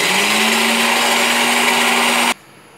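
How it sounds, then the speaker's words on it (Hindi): A juicer machine whips cream for mango ice cream, running as a loud, steady motor whir that cuts off abruptly near the end and leaves quiet. "मैंने इसको जूसर मशीन में डाला है और इसको विप करूँगी"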